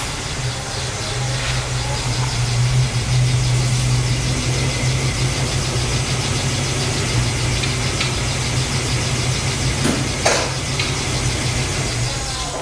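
Range Rover engine running at a steady idle inside a shop, a constant low rumble with a faint ticking texture, close and even throughout, with no clear talking.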